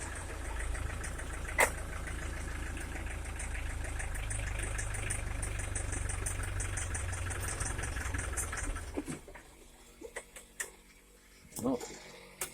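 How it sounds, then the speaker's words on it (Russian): Homemade tractor fitted with a Mercedes diesel engine idling, a steady low rumbling throb with knocking for about nine seconds before it cuts out, followed by scattered clanks. "Ну, не вытягивает трактор на холостых."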